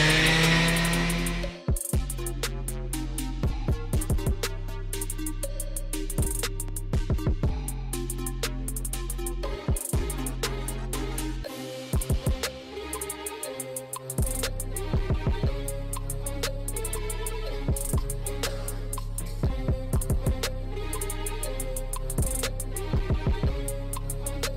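Palm sander running on an OMC to Volvo Penta SX conversion job on a Cobalt CS7 boat, a loud continuous buzzing drone with repeated scraping and knocking bursts as the tool works.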